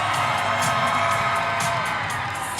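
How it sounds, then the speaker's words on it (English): Gymnasium crowd cheering and whooping for the Chinle Wildcats, boys basketball region tournament champions, a loud sustained roar of shouts and applause with high-pitched yells, continuous throughout. "let's give one more big round of applause to our tournament champions, the Chinle"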